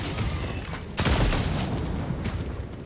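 Incendiary mines detonating in the video game Helldivers 2 amid a steady rumble of gunfire, with one sharp, heavy boom about a second in followed by continued crackling bursts and no speech.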